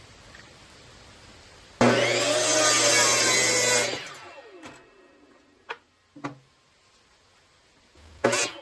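Power saw making one loud, close cut of about two seconds through a solid wood bowl bottom for a segmented bowl, trimmed square at 90 degrees, followed by several sharp knocks and taps as the piece is handled.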